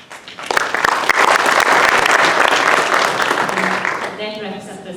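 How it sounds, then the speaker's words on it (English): An audience applauds school panelists at the close of an education session, with dense, steady clapping filling the room for several seconds before it thins out and a voice begins to speak. "a big round of applause for our panelists"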